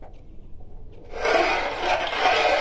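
A milk mixture for a Kerala sweet, kodangal kurukku, is stirred in a cooking pot: near-quiet at first, then a steady, close swishing and scraping as the spoon sweeps around.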